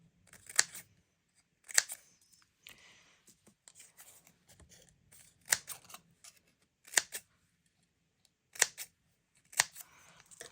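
Scissors snip through paper strips for card-making fringe, giving sharp, separate close cuts at an irregular pace with soft paper rustling between them.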